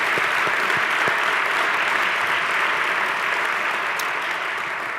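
A crowd at a Columbus neighborhood civic event applauds city council members with steady, dense clapping that holds evenly for the full stretch.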